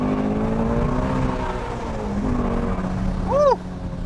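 Ford Shelby GT350 engine heard from inside while driving, a loud steady low rumble that swells as it accelerates, ending in a brief sharp rising-falling chirp.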